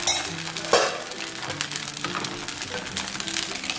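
Millet bun dosa batter cooks in oil on a pan over a low flame, giving a continuous close sizzle and crackle with faint scraping, steady throughout with no talking.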